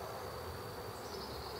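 Honeybees buzzing around an open hive during an inspection, a faint, steady, continuous drone of many wings heard close by.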